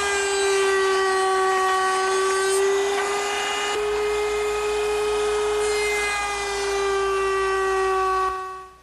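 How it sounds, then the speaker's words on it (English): A router table cuts a dovetail along a cherry table leg, a loud, close, sustained high whine with strong tonal overtones that holds steady throughout and drops away as the cut finishes. "Now I'll make that dovetail using my router table."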